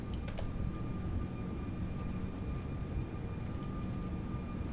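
Airbus A340 engines in a flight simulator building a steady, dense roar at takeoff thrust, with a faint high whine running through the rumble and a few light clicks near the start. The sound holds constant with no talk.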